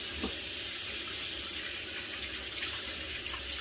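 Water from a bathroom tap runs steadily while hands are rinsed beneath it, a continuous close splashing that stays even throughout, with no talking.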